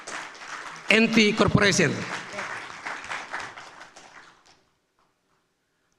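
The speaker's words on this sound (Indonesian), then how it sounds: "Kita berikan aplaus kepada keluarga besar" An audience at a Gekira organisation event claps, a dense wash of applause that swells suddenly, carries under someone speaking over a loudspeaker, then fades out to silence.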